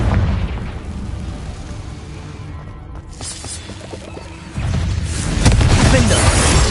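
In Hogwarts Legacy, a Confringo spell fires off a loud, rumbling explosion amid dense game noise, and a heavier burst swells up in the last couple of seconds.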